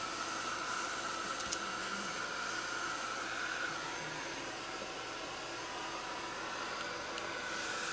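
A heat gun blows steadily for several seconds while drying a painted muslin art journal layer, a constant airy whoosh at close range and fairly quiet, with no talking.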